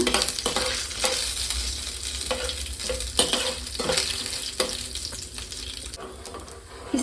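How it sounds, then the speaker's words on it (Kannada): Urad dal frying in oil with mustard seeds, a close crackling sizzle broken by repeated soft stirring scrapes, with no voices. "ಉದ್ದಿನ ಬೇಳೆ ಒಂದು ಸ್ವಲ್ಪ ಕೆಂಪು ಬಣ್ಣ ಬರೋ ತನಕ ಫ್ರೈ ಮಾಡ್ಕೊಳ್ಳೋಣ"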